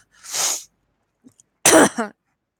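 A person with a cold lets out two close, sharp coughs or sneeze-like bursts, separated by a short silence with a faint sniff in between.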